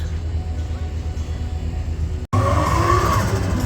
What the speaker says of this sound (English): What an impressive burnout from that M3